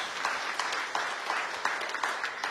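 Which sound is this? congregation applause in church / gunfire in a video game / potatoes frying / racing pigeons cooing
congregation applause in church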